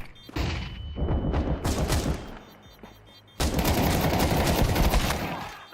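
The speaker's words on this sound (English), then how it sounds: "Throwing flashbang." A flashbang grenade thrown in a video game goes off in loud bursts of gunfire-like blasts, a short lull, then a sustained heavy barrage of crackling booms and rattling shots.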